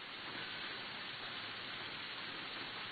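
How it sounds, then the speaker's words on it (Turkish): Hail pelting a newly bought jeep in Stavropol, Russia, heard as a dense, steady roar of hailstones striking throughout, with no gaps and no voices. "Yeni aldığı cipini dolu yağışından korumaya çalışıyor."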